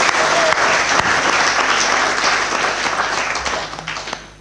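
A congregation at a memorial service breaks into a dense, steady round of applause that holds for several seconds, then tapers off toward the end.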